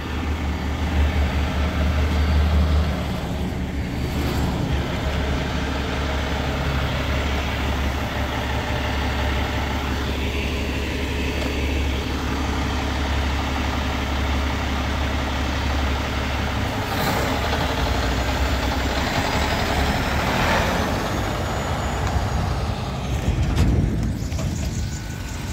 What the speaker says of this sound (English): And the garbage truck.